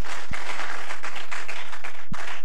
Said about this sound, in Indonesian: Tepuk tangan bagi Tuhan kita, haleluya.